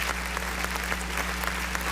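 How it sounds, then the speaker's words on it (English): Steady applause from a crowd, continuous clapping at an even level with no talking. "Just for getting through that, I get applause."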